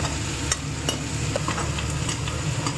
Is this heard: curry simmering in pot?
yes